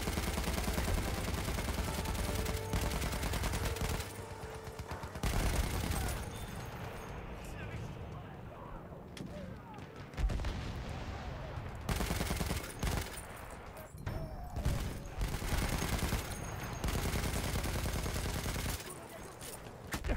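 Continuous battlefield gunfire from the video game Battlefield 1 roars throughout, with dense machine-gun bursts and heavy blasts, loud and layered, briefly dipping a few times before resuming.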